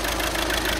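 A VW Caddy 1.6 diesel engine idles while warming up, with a faulty injector; it gives a steady, close mechanical clatter and knock that runs evenly through the short moment.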